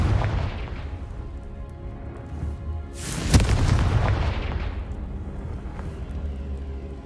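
A Confringo explosive spell from Hogwarts Legacy bursts in a sharp, loud blast midway, its roar trailing off over steady rumbling game ambience, with a few smaller thuds around it.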